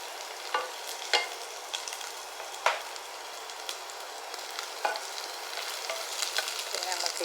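Green chillies stirred into onions frying in a pan, with a steady sizzle broken by several sharp scraping clicks of a spoon against the pan. Close and fairly quiet, with no talking.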